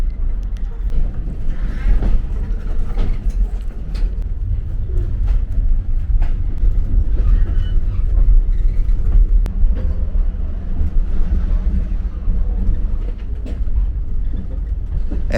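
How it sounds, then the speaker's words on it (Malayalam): Luxury train rolling slowly toward Livingstone station in Zambia, a steady low rumble of wheels and carriage running throughout with wind noise, close and loud, with occasional faint clatter on top. "നമ്മളിപ്പോൾ പതുക്കെ ലിവിങ്സ്റ്റൺ സ്റ്റേഷനിലേക്ക് പോയിക്കൊണ്ടിരിക്കുകയാണ്."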